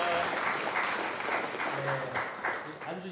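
A church congregation applauds warmly and steadily at an ordination service, the clapping gradually tapering, with some voices audible beneath it.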